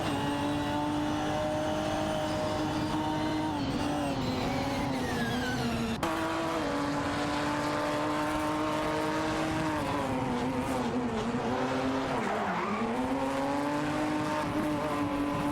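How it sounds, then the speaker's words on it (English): AI-driven race cars in a racing game, a Maserati Gran Turismo MC dueling an Aston Martin Vantage GT4: steady loud engine drone with shifting pitch, gear changes and a dip and climb in revs, no speech. "Haruto 5, in the Maserati Gran Turismo MC, is fighting Sirironbot's Aston Martin Vantage GT4 for 23rd place."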